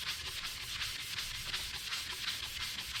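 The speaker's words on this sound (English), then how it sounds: "give it a good sanding to get that coating off" Steady, rhythmic hand sanding of a stainless steel tumbler to remove its coating, with a rapid back-and-forth scratching stroke that continues evenly and close throughout.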